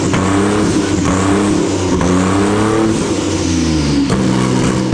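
A powerful twin-turbo Mitsubishi Triton engine revs hard and repeatedly, pitch climbing and dropping between loud bursts, close and continuous with no speech.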